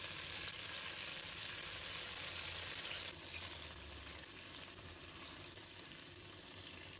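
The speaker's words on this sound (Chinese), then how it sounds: "油热之后，把豆腐一块一块的放入锅中。" Tofu pieces fry in hot oil in a wok over high heat, giving a steady, dense sizzle throughout that eases slightly in volume partway through, with no voices or stirring.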